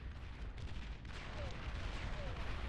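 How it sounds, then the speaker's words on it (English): Rumbling artillery barrages in the real-time strategy game Beyond All Reason form a continuous low booming wash of distant blasts, steady and moderately loud throughout. "Just look at the damage that this artillery is doing."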